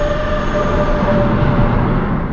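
A speeding train rumbles loudly and steadily, with a sustained whining tone riding over the heavy rolling noise of the carriages.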